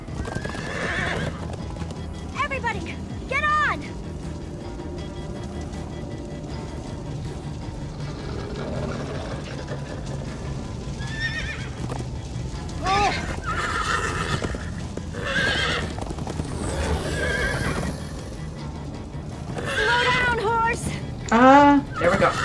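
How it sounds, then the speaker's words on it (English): Horses in Minecraft Story Mode whinny and neigh repeatedly over steady galloping hoofbeats and clip-clops, while people shout excitedly over the commotion. "The horses! Oh my god, get the horses!"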